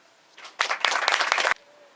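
Audience applause after a singer's story-and-song performance at the Portland Temple, a burst of many hands clapping that rises sharply, holds steady for about a second, then cuts off.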